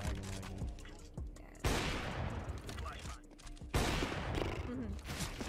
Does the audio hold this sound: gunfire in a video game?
yes